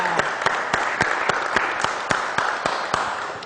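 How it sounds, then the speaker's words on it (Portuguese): An audience claps for a pastor in rhythmic unison, with sharp beats about four times a second over a softer bed of crowd noise. "Vamos aplaudir ele,"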